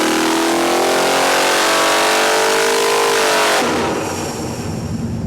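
A big-inch big block Mopar 512 stroker engine with a raised block roars loudly on a dyno pull, pitch climbing steadily under full load before cutting off into a lower rumble.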